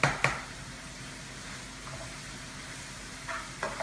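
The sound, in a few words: stirring pasta with vegetables in oil in a pan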